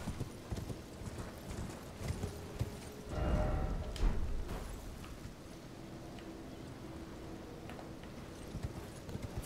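Horse hooves gallop in a steady clip-clop rhythm in the video game Elden Ring, close and prominent, with a brief whinny-like swell midway and no talk over it.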